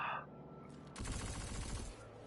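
Bursts of rapid SMG fire in the shooter Destiny 2, preceded by a short mechanical click and then a dense, close stream of shots lasting about a second before trailing off.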